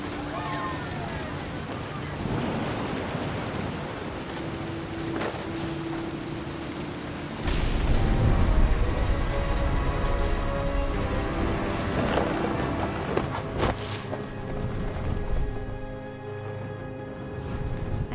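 Heavy, steady rain of a thunderstorm in the video game What Remains of Edith Finch, with a deep rumble of thunder swelling partway through, while a person talks over it.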